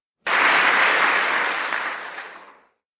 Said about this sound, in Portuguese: Parei de aplaudir por não conseguir aplaudir muito tempo